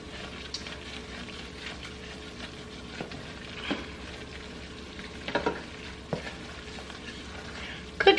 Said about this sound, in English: when you're making a roux, you just keep it moving